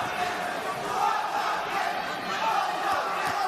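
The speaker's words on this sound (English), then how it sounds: "Crowd enjoying this fight." A large arena crowd at a boxing match roars and cheers steadily throughout, a dense, continuous wash of voices at moderate loudness.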